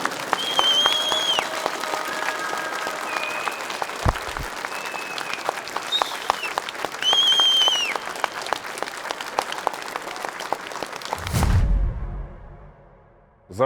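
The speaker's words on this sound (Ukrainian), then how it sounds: "ці оплески для тебе. А це для Альберта. Давайте ще гучніше" Audience at a bare-knuckle fist fighting tournament applauding loudly and steadily with whistles rising over the clapping, then an abrupt cut to near silence at the end.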